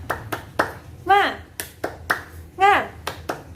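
A primary school class does a rhythmic 'tepuk semangat' clapping chant, with sharp clap bursts in a patterned beat alongside two short sung or chanted vocal calls, close and fairly loud.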